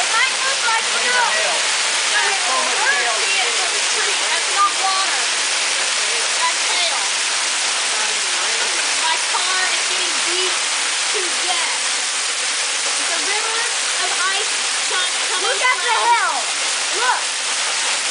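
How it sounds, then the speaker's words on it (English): A loud, dense roar of hail and ice pounding down continuously during a Texas storm, a steady heavy hiss with faint talking buried underneath. "There's so much hail."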